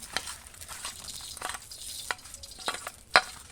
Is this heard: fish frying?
yes